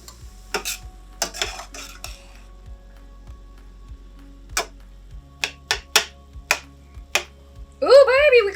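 Warm sausage and spinach chip dip being stirred in a pan, with sparse utensil clicks and taps against the pan over a faint hum, and a brief voice near the end.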